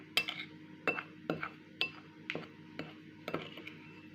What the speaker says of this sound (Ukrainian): Я це все перемішаю